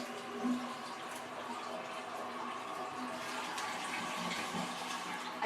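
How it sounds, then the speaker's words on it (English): A household toilet flushing, a faint steady rush of running water that carries on for several seconds without a break in a quiet bathroom. "I just flushed the toilet."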